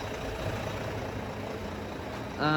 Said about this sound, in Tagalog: Tapos ayan, naka-adlo na rin yung ating makina.